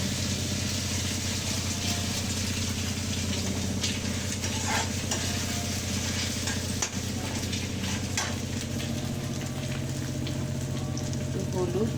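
An egg frying in a pan for a spicy lentil dish: a steady, dense sizzle under a constant low hum, with faint scraping and stirring now and then.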